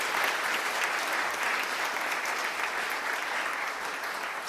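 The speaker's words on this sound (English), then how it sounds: "a collective round of applause for our President, Harriet, and all of the members." Audience at a medical college conferring ceremony gives a sustained round of applause, many hands clapping evenly at moderate volume across the whole stretch.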